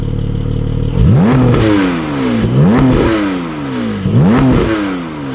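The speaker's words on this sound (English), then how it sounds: "Before, it sounded like this." A Porsche 718 Spyder engine idles, then revs sharply three times in a row, each rev climbing and falling back, with a fairly mild, muted stock exhaust tone.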